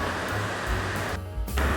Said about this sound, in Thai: นอนหน้าน้ำตกคนเดียว